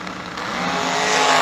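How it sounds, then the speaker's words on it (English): Rocky McLean's Gallstar dragster in the right lane at a drag race, engine roaring and building steadily louder over a second and a half, with no voices over it. "The Gallstar dragster in the right lane for Rocky McLean."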